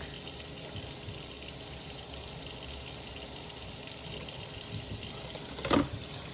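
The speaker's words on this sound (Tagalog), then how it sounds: "Gusto ko nang mabilis ang defrost, so bababad ko na lang siya muna sa tubig." A kitchen tap running steadily into a sink to soak frozen meat for defrosting, a constant close stream with one brief clunk near the end and no talking.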